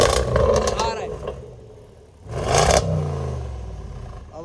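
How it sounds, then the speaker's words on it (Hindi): A 2018 Range Rover Sport SVR exhaust blares in two loud revving bursts with crackling and a fading rumble between them, heard close and mixed with a voice. "आवाज़ सुनिए एग्जॉस्ट।"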